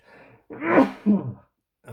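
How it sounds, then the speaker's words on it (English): A single close sneeze: a short breathy intake followed by a sharp explosive burst, then silence. "oh excuse me, I'm going to sneeze."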